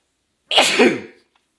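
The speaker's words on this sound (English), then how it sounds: "pardon me, I'm about to sneeze" A single sharp sneeze from one person, close and alone, a quick inhale followed by the burst and fading off.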